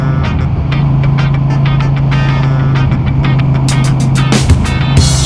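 A 1972 Moto Guzzi V7 850GT riding on a road in Dubai, with a steady loud engine drone and rushing road and wind noise throughout, plus a few sharp clicks or gusts near the end.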